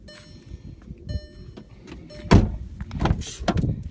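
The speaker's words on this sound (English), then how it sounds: "Power windows all the way around." The power windows of a Volkswagen Jetta Sportwagen TDI whir up and down in a few short motor runs, ending in thumps and clunks from inside the car, close and fairly loud.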